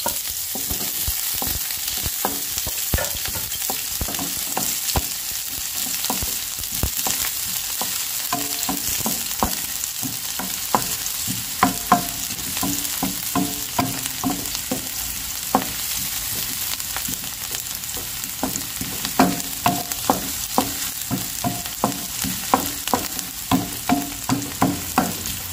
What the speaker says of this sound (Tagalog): Gisa lang po natin yung ating bawang sibuyas.